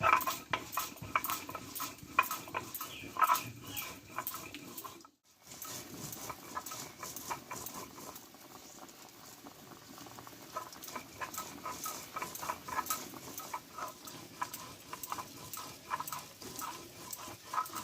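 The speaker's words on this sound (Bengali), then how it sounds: "দেখো এই মশলাটা বেটে নেব আমি" Ginger pieces, five green chillies and a spoonful of whole cumin are ground into a spice paste for an aloo phulkopi dish. The grinding is a steady, close scraping that continues throughout, with one brief pause.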